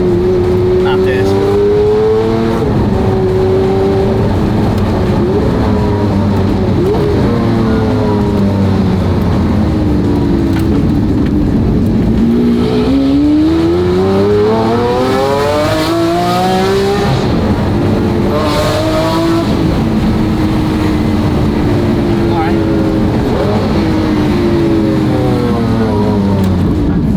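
Lamborghini Aventador V12 accelerates hard through repeated gear changes, the engine note climbing in long rising sweeps that drop at each shift, loud and close inside the car, with people talking over it.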